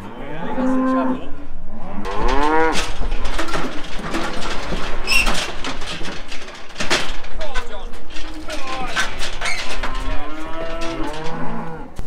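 A herd of cattle surrounding a Land Rover moo loudly and overlap one another, a dense chorus of lowing, with occasional clunks and voices mixed in.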